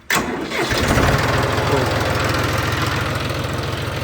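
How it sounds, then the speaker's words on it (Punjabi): A John Deere 5204 tractor's diesel engine cranks and catches, then settles into a steady, loud, close rumbling idle with a regular knocking pulse. "ਲੋ ਜੀ ਆਵਾਜ਼ ਚੈੱਕ ਕਰਿਓ ਟਰੈਕਟਰ ਦੀ"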